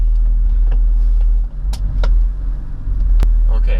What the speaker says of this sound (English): Now let's get the car on the ground and go for a drive.